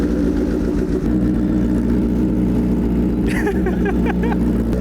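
A custom motorcycle engine idles steadily and loud up close, a dense low rumble throughout with some clicking and rattling creeping in toward the end.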